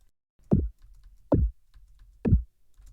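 Three layered synthesized sci-fi laser beam zaps built from a pitch-enveloped sawtooth wave, each a sharp downward-sweeping burst, evenly spaced about a second apart, loud and close with no other sound.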